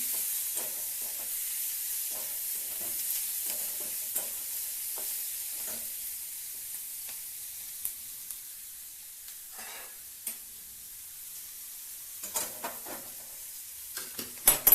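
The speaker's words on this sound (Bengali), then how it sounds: "চলুন পেঁয়াজটা একটু ভাজা ভাজা করে নিই" Onions fry in a pan for a banana-flower (mocha) curry, giving a steady soft sizzle throughout, with scattered scraping and tapping as they are stirred, fairly quiet and close.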